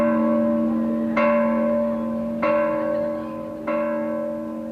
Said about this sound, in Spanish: Tiene un campanario de 48 campanas